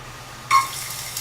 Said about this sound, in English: hear that sizzling sound?